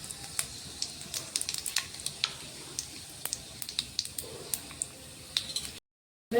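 Panch phoron with fenugreek seeds crackles in hot oil, giving a run of sharp little pops over a faint sizzle that stops abruptly just before the end.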